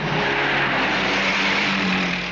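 A car engine revs hard as the vehicle accelerates, a loud, continuous mid-pitched roar that holds steady for a couple of seconds with no talking.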